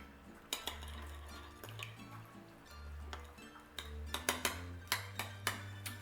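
A whisk clinks and taps against a bowl while a flour and sugar mixture is stirred for pan de muerto dough, giving quiet, irregular metallic strikes with a few sharper clinks toward the end.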